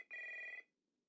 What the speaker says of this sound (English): when the phone rang in the office